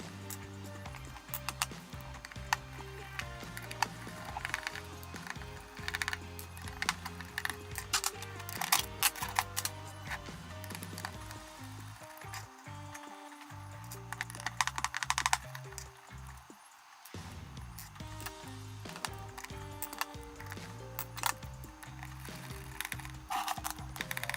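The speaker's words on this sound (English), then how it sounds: "Here we have the gearbox. Let's open it." Someone opens the gearbox of a two-year-old airsoft gun that was used for close-quarters play. Dense, continuous clicking, rattling and scraping of small mechanical parts being handled comes from close by throughout.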